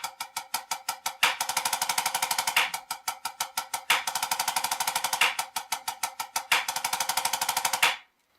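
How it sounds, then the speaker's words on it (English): Snare drum played as an accented 17-stroke roll built on drag patterns: several rapid buzzing rolls, each opening with a sharp accented stroke, repeated in close succession with no voices until a clean stop. "this would be a 17-stroke roll."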